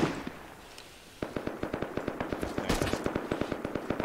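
Rapid bursts of automatic gunfire from the survival game Rust, a sharp sustained volley of shots starting about a second in, loud and close with no talk over it.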